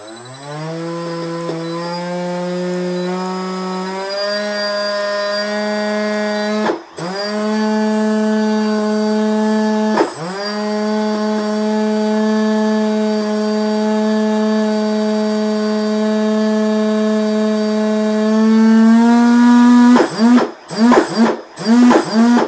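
An Arctic Cat engine drones loudly and steadily during a pre-flight run-up, its buzzing pitch climbing as the throttle rises, with two short dips midway and stuttering cut-outs near the end.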